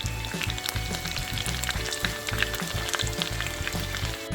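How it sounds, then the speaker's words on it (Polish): Meat cutlets in breadcrumbs sizzle and crackle in a hot pan, a continuous spattering frying sound with small pops, fairly quiet and close. "Smażymy."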